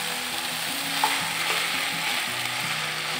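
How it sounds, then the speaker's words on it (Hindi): Masala cooking in a pan, a steady even sizzle with little variation, continuous and close, with faint background music underneath. "इसको कुक करके जाना है जब तक मैं ये जो मसाला है ना ये पूरा कुक होके ब्राउन ब्राउन ना दिखे"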